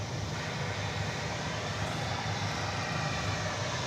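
Airplane taking off at DFW Airport: a steady, heavy jet engine roar, loud and continuous, with no talk.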